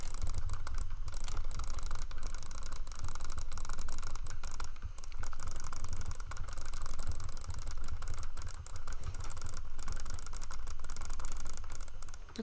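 A computer mouse is hammered with rapid-fire clicks for a dozen seconds, producing a steady, ratchet-like clatter of close plastic taps with a few short gaps and no voices.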